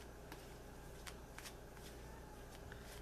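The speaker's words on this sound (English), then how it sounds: "I'm going to shuffle them, and we'll see what these cards have to say for the week." A deck of angel cards, romance cards, being shuffled up close, with quiet repeated riffling swishes and light slaps in an uneven rhythm over a soft steady background hum.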